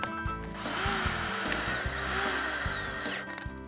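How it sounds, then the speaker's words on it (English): A power drill bores screw clearance and pilot holes into an aluminum channel for a garden arbor gate, a close steady whine with rising and falling pitch and short stops between holes. "First, I drill screw shaft clearance holes, followed by pilot holes into the aluminum channel."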